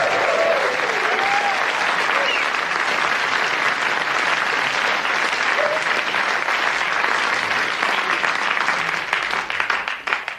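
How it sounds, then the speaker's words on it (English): A radio studio audience applauds a guest on a BBC Radio 4 comedy show, with a long, full round of clapping that stays loud and even before thinning out at the very end. "another big round of applause for Lawrence Camley"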